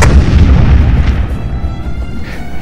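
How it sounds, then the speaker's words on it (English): Heavy gunfire effect in a sci-fi short film, with a shuttle under attack: loud, continuous rumbling bursts and booms, strongest at the start, then easing slightly but staying dense throughout, with no voices. "we're coming under heavy fire"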